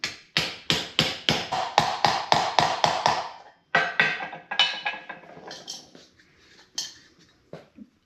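A socket presses a press nut onto a Model A Ford headlight reflector during a halogen conversion. It makes a quick run of about a dozen sharp metallic taps, then a few scattered, fainter clicks.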